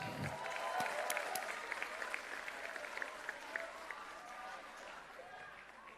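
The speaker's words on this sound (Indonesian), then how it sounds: "Kita sambut dengan tepuk tangan yang meriah Ketua Umum PSI, Bro Kaesang Pangarep." An audience at a PSI party event applauds to welcome the newly appointed chairman onto the stage, a fairly distant, steady clapping crowd with some cheering mixed in.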